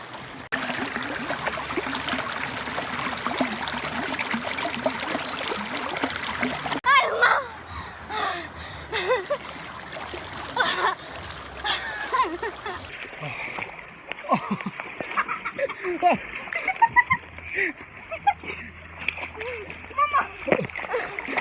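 Water splashing and churning in a cold, flowing river during rainy weather, with children's voices and chatter mixed in throughout.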